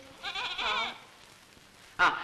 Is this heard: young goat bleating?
yes